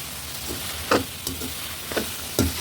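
Tomatoes frying in a pan for mint chutney while being stirred: a soft continuous sizzle under several light scraping stirs at irregular intervals.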